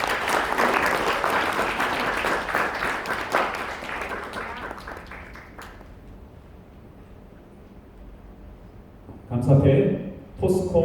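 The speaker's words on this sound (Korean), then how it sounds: "큰 박수 부탁드립니다" Audience applause at the 70th anniversary ceremony of the Korean Child Welfare Association, a dense burst of clapping that fades out over about six seconds, followed by near-silence and then a brief spoken interjection.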